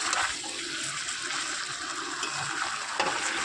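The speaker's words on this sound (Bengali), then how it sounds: "এর মধ্যে এবার আমি একটু গরম জল দেবো।" Hot water poured into a pan of chicken curry, a steady rushing, bubbling pour with a sizzling hiss over a quiet kitchen background.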